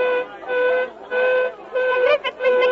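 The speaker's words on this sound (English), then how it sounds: "I heard the whistle at the mine." A mine whistle blows in an old film as an accident signal, sounding in four sustained, harmonic blasts with short gaps between them, fairly loud and steady.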